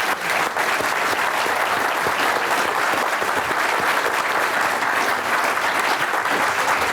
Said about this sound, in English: I would like you all to just join me in a round of applause for our panel here